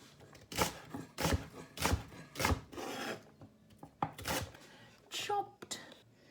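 Rhubarb stalks being chopped with a knife on a cutting board, a run of crisp thunks, some quick and clustered, others spaced apart, with soft scraping between.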